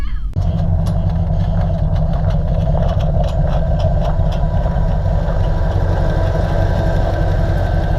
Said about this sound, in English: I hear a lifter tick.